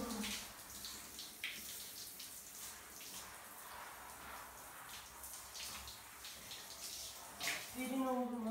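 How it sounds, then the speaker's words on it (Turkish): Running water splashes steadily into a bathtub as a dog is washed, a continuous moderate gush with some brief splashes, and a person speaks softly over it. "Hayır burada yıkanacağız bugün."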